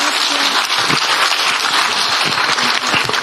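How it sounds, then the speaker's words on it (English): Audience at a women's alumni live event applauding, a continuous loud wash of clapping from many hands, close and unbroken for the whole stretch. "a big clap to her"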